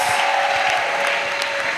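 Church congregation applauding at a pastoral college opening, a steady even wash of clapping with a faint tonal hum running underneath.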